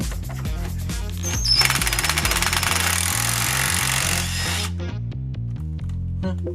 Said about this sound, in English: this thing is fucking rusted shut, so I'm either gonna break it or it's gonna come off